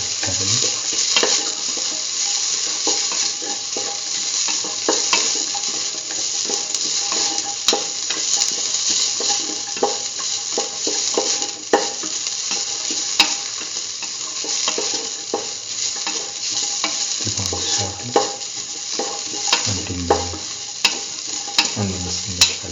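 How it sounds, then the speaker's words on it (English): Shallots sautéing in a pan, a continuous bright sizzle with repeated scraping and knocking of a spatula being stirred, growing more rhythmic near the end. "saute the shallots and mix thoroughly"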